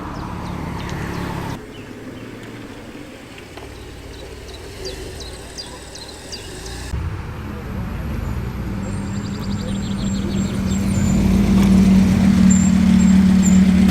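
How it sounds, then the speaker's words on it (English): A loud Renault Kangoo van with a diesel engine runs at a busy breakfast car meet, its low rumble swelling toward the end amid background traffic and people talking nearby. "Just behind that we can hear the diesel sound"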